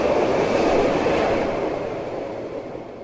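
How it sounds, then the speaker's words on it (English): Train rushing through a tunnel in the video game Between the Rooms, a dense, loud rumbling roar that holds steady and then slowly fades as it passes. "how often are trains gonna come by?"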